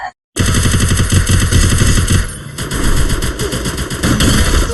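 Rapid automatic gunfire from the Free Fire video game rattles in dense, loud bursts after a brief pause, with shots overlapping and continuing almost without break.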